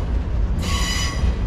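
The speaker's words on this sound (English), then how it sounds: "First train of the day." A graffiti-covered freight train rolls past on the rails at a signal, a loud, steady rumble with a bright metallic wheel squeal rising midway through.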